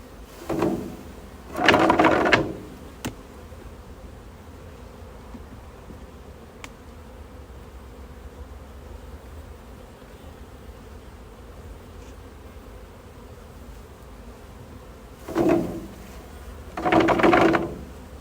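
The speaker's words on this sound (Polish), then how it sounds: "Dzisiaj mamy bardzo fajny lotny dzień, także lotne pszczoły yy, no latają dzisiaj." Honeybees buzz around a hive on a busy flying day, a steady low hum with a few louder passes as individual bees fly close by near the start and end.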